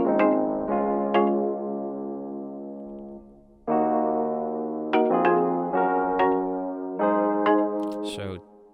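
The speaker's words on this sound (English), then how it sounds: "I added these kalimbas" Kalimba preset chords in an afrobeat chorus ring out in short plucked hits on an offbeat pattern, bright tines decaying over sustained layered tones, fairly loud and alone.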